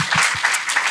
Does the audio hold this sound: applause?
yes